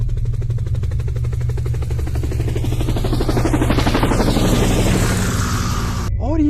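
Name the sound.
helicopter starting up, animated cartoon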